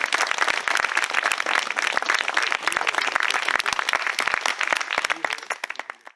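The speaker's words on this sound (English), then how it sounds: "another round of applause to the members of the Asian Performing Arts for the performance they provided today" An outdoor seminar audience applauds the Asian Performing Arts performers, crisp individual claps from a modest group in close, steady succession before thinning out at the end.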